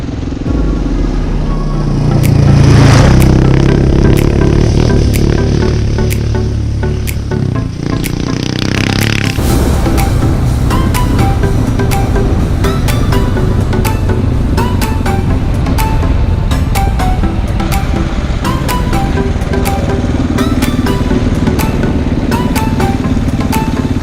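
A KTM 690 Enduro R motorcycle rides a green lane in Cambridgeshire, its engine droning steadily and loudly with gear changes and throttle swells, with wind buffeting throughout.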